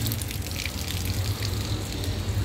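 Water runs from public drinking fountain spouts in a park, making a steady, faint outdoor trickle and splash with no voices.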